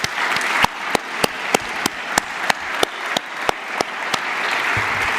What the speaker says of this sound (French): Je voudrais juste qu'on les applaudisse